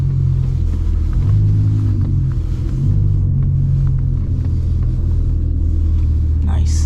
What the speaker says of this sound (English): I'm just trying to have some fun in an R8